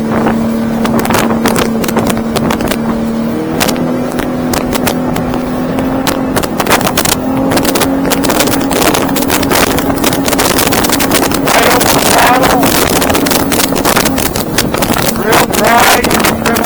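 Boat powered by a Yamaha VMAX 250 SHO outboard motor running steadily with a loud, continuous drone, heavy wind and water noise over it, and someone talking throughout.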